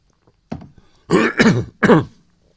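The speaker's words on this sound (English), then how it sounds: "drink plenty of water, clear your throat" One person clears their throat, a small hitch followed by two or three loud, close, raspy bursts, then silence.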